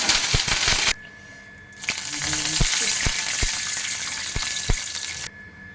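Mustard seeds sizzle and crackle in hot oil for a tempering, a loud steady frying hiss broken by sharp pops, pausing briefly and then resuming.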